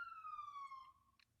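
A police siren wails outside, a single descending tone with strong harmonics that fades near the end, followed by a brief faint blip. No one speaks.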